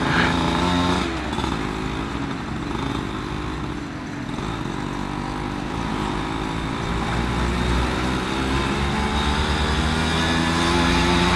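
A motorcycle engine with a leaking exhaust runs steadily while riding, a continuous raspy, buzzing drone with slight rises and dips in revs, close and fairly loud throughout, no talk over it.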